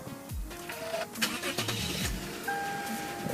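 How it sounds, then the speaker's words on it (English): A Lexus engine cranks and catches, with a couple of short starter whirs followed by the motor settling into a steady idle, close and fairly loud with no talking. "we're going to turn on the vehicle"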